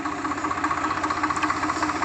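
A tractor engine at work on a farm during the mustard harvest runs with a steady, rapid mechanical thrum and an even low pulsing rhythm, heard close and fairly loud with no voices.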